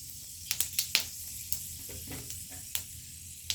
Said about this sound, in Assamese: তেল দিয়াৰ পাছত মই তাতে কেইটামান পাঁচফোৰণ দি দিলোঁ